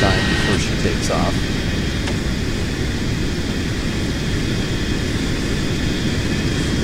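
Virtual DC-3 propeller airliner in the game Second Life, its engines droning steadily at throttled-back idle on the runway, an even continuous hum with a few faint higher tones at the start.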